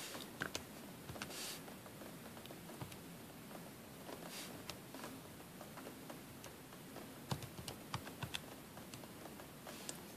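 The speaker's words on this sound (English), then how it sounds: "we write the inverse cosine like this, and we type that in" Fingers tapping keys on a calculator while entering an inverse cosine, a quiet scattered run of light clicks and taps at close range with no talking.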